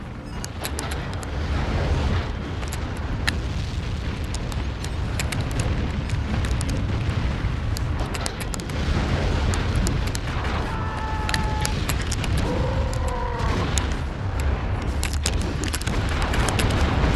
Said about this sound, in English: Enemy turrets destroyed.